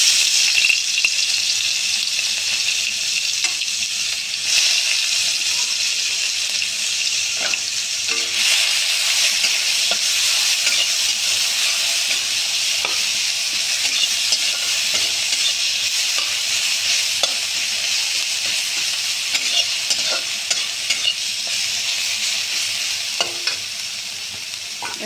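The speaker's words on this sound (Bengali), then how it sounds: "এখন আমি পেঁয়াজ দিয়ে দিলাম" Sliced onions hit hot oil tempered with nigella seed and cumin, giving a steady, loud sizzle and frying hiss with occasional scrapes and taps of a stirring spoon, no talk.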